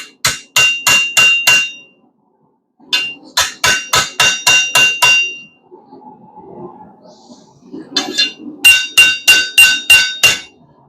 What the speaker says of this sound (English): So while I have some heat, I'm just going to take it to the anvil.